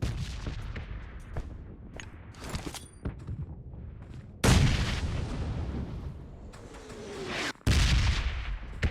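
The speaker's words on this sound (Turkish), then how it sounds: "Bomba attı." Bomb blasts and gunfire in PUBG Mobile duo mode: a steady crackle of distant shots, then two loud, broad explosive bursts near the middle and end, each decaying into a rumbling tail.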